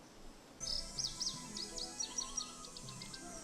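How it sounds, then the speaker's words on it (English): Recorded bird songs of an American goldfinch and northern cardinal play from a cassette player in a video game, in quick repeated high chirps and trills, clear and fairly close, over a faint steady background hum, with no talking. "So this is the cassette player, the bird sounds. American goldfinch. Northern cardinal."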